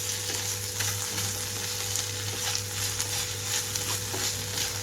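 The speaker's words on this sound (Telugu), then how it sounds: "3 నుంచి 5 నిమిషాలు అయితే లో ఫ్లేమ్లో ఉంచి వేయించానండి" Steamed ivy gourd pieces fry slowly over a low flame after salt is added, giving a continuous even sizzle at close range with faint stirring scrapes, and no voices.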